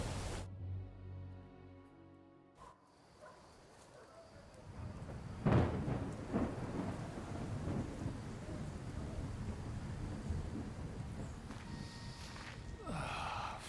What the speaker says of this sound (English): I can't hear you over the storm, which for some reason is in this cave.